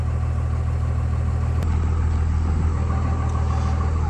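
A vehicle engine runs at a steady low idle while backing a trailer into its spot beside another trailer, a constant close rumble with no speech.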